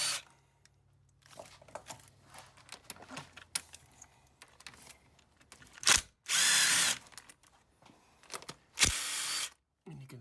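A power drill runs in a few loud bursts while loosening the valve cover bolts on a Mazda CX-7, with quieter clicks and handling noises of tools and parts in between, close by.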